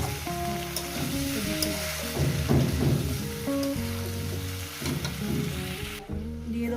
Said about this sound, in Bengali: দিয়ে এটা একটু 2 মিনিটের জন্য একটু মশলাটাকে একটু কষিয়ে দেবো